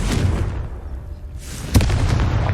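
Confringo spell blast in the Hogwarts Legacy video game, a loud close booming explosion with rumbling roar, a sharp burst near the end, no talk.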